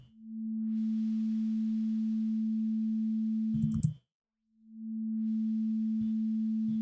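A Serum synth lead run through a filter: a sustained pure, low sine-like tone held for several seconds, cut off with a brief click, then swelling back in after a short gap.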